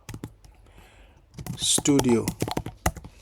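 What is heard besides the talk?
typing on a computer keyboard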